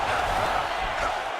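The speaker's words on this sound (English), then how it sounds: "they can take in the applause because they deserve it after that grappling exchange" An arena crowd in the UFC 5 fighting video game roars and applauds after a grappling exchange, a steady, loud wash of cheering that fills the whole brief moment.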